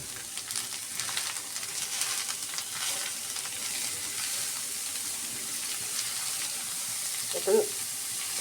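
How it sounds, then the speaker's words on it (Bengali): Spices for lentil fritters sizzle in a pan with a steady, moderate frying hiss and occasional stirring scrapes, plus a brief knock near the end. "5 মিনিট মশলা ভেজে রেখে দিই পাঁচটা"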